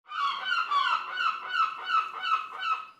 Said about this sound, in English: That is the sound of seagulls.